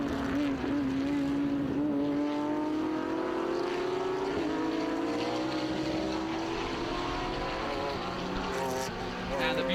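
Vintage race cars roar past at Mid-Ohio, engines droning with rising and falling pitch as they speed by, loud and continuous with overlapping motors in an open track setting.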